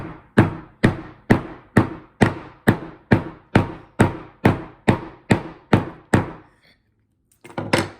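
A hammer strikes glue on a bareback riding glove, about a dozen sharp, evenly spaced thuds in a steady rhythm, close and loud, followed by a pause and a short shuffle of handling.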